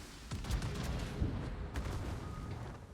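High-explosive shells burst across a warship's deck in the naval game World of Warships, aboard the cruiser Hannover, a dense run of booming blasts and crackling impacts.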